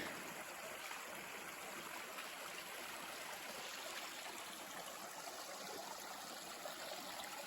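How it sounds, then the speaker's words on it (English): River on the Appalachian Trail rushes in a steady, broad hiss of flowing water, constant and fairly soft, with no talk. "I get to cross this river"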